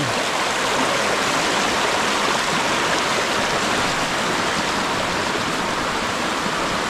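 Floodwater pours steadily over a small waterfall, a loud, continuous roar like a swollen stream, with no pauses or voices.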